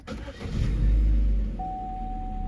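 A Chevy Cruze with an automatic transmission and a new transmission mount cranks and fires up close by, a brief starter whir swelling into a loud catch, then a steady idle with a faint whine.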